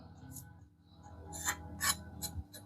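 A knife edge rasps across a coarse 220 grit sharpening stone in several short strokes, the scrapes growing louder and closer together toward the end, with no voices.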